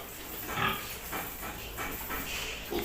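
Pigs on a piggery farm, a few grunts and squeals rising briefly out of a noisy pen background, moderately close.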